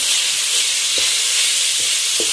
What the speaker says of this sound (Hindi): 4 मिनट हमें इसको फ्राई करते हुए हो चुके हैं